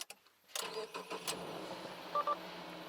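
A Subaru Outback under repair cranks briefly and catches, its engine then settling into a steady idle heard close up, with a few faint electronic beeps.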